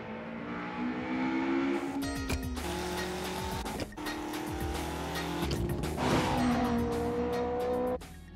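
A Toyota AE86 from anime accelerates hard through gear changes, engine pitch climbing then dropping at each upshift, with tire squeal and race-car intensity, loud and close with no talking.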